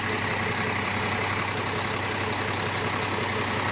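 An Isuzu 6UZ1 engine in a 10-wheeler wing van truck idles steadily, a constant close rumble with no voices over it.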